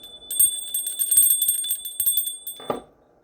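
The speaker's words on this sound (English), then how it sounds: "Ring the bell." A bell rings out in a spiritual ritual setting, its bright sustained tones layered with rapid metallic strikes for about two and a half seconds before a heavier final clang and quick fade to silence.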